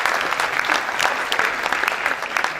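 Audience at a National Honors Society induction ceremony applauding steadily to welcome a speaker, a dense, even wash of clapping from many hands with no voices over it.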